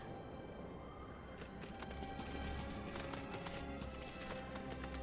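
Hooves of a horse galloping in a video game, a steady rapid clip-clop running under a busy game soundtrack at moderate loudness, with no one speaking.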